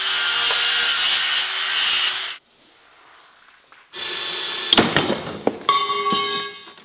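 Saw strokes rasp loudly through a wooden broom head in a steady rhythm, pause briefly, then resume with scraping and a few sharp knocks.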